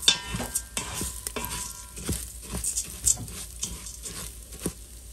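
Tacos deep fry in hot oil. Soft crackling and sizzling pops come in uneven bursts over a low bubbling hiss, close but fairly quiet, with no talking.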